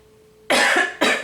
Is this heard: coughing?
yes